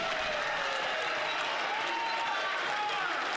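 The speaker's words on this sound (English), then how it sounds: "Yes, clap like sheep." Members of parliament clapping in the chamber, a steady, fairly faint wash of many hands under a murmur of voices.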